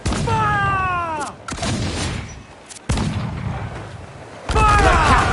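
Ship cannons firing in Assassin's Creed 4 Black Flag during a naval battle, a series of heavy booming shots in quick bursts with gaps between, mixed with shouting voices of the crew.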